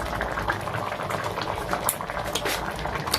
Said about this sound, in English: Now let me just leave the leaves to just boil for 2 more minutes